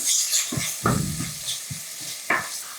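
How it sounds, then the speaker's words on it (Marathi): Finely chopped onion sautéing in two tablespoons of hot oil inside a pressure cooker, a soft continuous sizzle broken by several distinct scraping stirs of a spoon against the metal pot, close by. "कुकरमध्ये दोन टेबलस्पून तेल गरम करायला ठेवलं यामध्ये बारीक चिरलेला कांदा"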